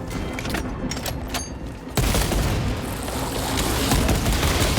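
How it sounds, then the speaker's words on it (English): A frag grenade goes off in the Warhammer 40k Space Marine 2 video game: crackling gunfire, then a sudden loud boom at about two seconds followed by sustained rumbling battle noise. "Throwing frag grenade!"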